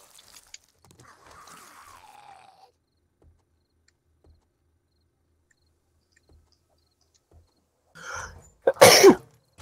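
A single sharp, loud sneeze bursts out near the end of a quiet stretch during a home live stream, preceded by a brief softer breathy sound and a faint whine earlier on.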